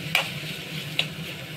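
Masala being fried in a pan on a gas stove at low flame, with a steady soft sizzle and two sharp spoon-scrape strokes about a second apart; no one talks.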